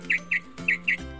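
Bird chirps in a short repeated pattern, four sharp tweets in two pairs, fairly close and clear over a faint steady background tone.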